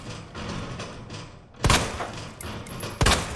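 Gunfire in Resident Evil 2 Remake: a couple of sharp, loud shots cut through a steady background rumble, spaced over a few seconds with no talk.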